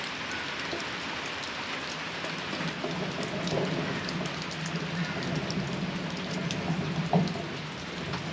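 Rain falls outside a woodworking workshop, a continuous soft hiss with scattered patter that holds steady, with a slightly louder swell midway.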